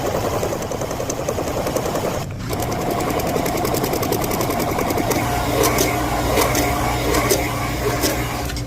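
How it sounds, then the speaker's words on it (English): Valve seat cutter machine geared down to 74 RPM cuts the valve seats of a Ford 351C engine head, a steady close mechanical whirring chatter with rapid rhythmic ticking that stays loud throughout. "I got the cutter in it, and I got it geared down to 74 RPM"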